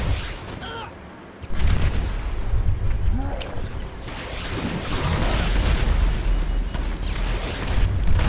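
Jericho missiles exploding in GTA 5, a sudden heavy boom followed by a sustained rumbling barrage of blasts and low roar, with a voice talking faintly beforehand.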